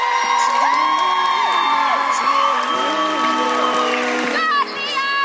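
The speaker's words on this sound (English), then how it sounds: "Audience members, can we have a round of applause?" The audience at a PCA bodybuilding competition stage show in Las Vegas whoops and cheers loudly and continuously, high voices rising and falling in sustained calls.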